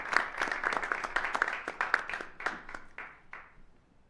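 Audience at a school board meeting applauding student scholars, a fairly quiet, thinning round of clapping with distinct individual claps that taper off near the end.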